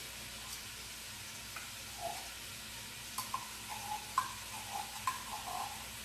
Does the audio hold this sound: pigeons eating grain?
no